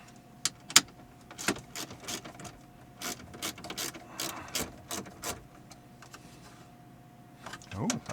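Socket wrench ratcheting while loosening two 8mm bolts on a BMW E90 during a radio install, a series of close, sharp clicking bursts with brief pauses, under quiet talk.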